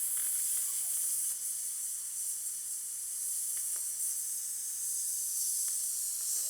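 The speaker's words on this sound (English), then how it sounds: "And give a little hiss out." A long, steady hiss of breath pushed out through the teeth, airy and sustained for several seconds with no talking.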